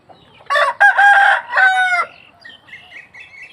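A fighting rooster crows loudly and close by in one long drawn-out call, followed by a few fainter higher chirps from other birds.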